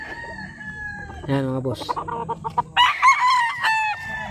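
Gamefowl roosters at the Dreambird Game Farm crow close by, one long crow followed by overlapping crows and clucks, while someone talks briefly over them.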